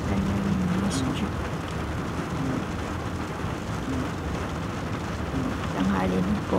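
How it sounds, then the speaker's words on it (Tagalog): Heavy rain in Kuwait pours steadily with a constant dense hiss, while a voice speaks faintly underneath at times. "Ulan pa rin. Kanina pang umaga maulan."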